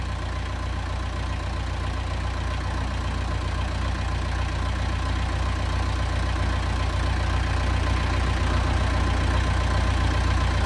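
A narrowboat's engine idles steadily and close by after restarting, a continuous low, even chug with no voices.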